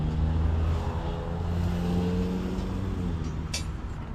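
A pickup truck driving along the road with a steady engine drone and tire rumble heard from inside, holding an even pitch with a brief high whine near the end.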